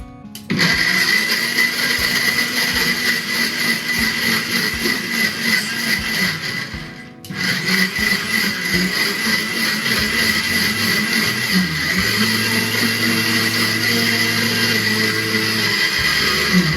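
A mixer grinder jar whirs loudly as it grinds lemons without water for pickle. The roar is continuous, close and high-pitched, with one brief dip partway through before it runs on steadily.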